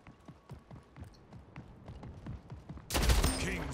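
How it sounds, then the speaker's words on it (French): Pump shotgun in Splitgate, heard as a single loud close blast near the end after a stretch of quick running footsteps, with game sounds behind it and no talk. "Ouais, c'est un pompe."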